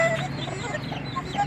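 A mother hen with a brood of five white chicks: soft close clucking and faint high peeps from the chicks, a brief continuous farmyard murmur.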